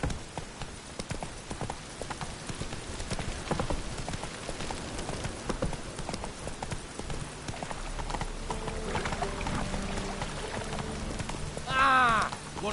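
Hooves of Roach, Geralt's horse in The Witcher 3: Wild Hunt, clip-clopping steadily at a trot amid light rain, with a short whinny near the end.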